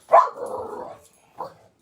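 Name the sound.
dog barking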